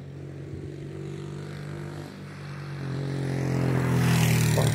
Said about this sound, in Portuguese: Passou uma moto ali.